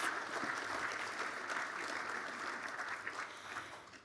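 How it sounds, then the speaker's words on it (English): Applause from a crowd fills the room, steady clapping that stays fairly faint and even throughout. "So I think we deserve to give Mick Harding a big, big round of applause."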